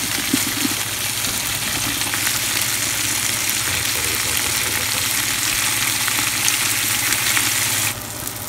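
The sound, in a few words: red wine deglazing a pan with tomato paste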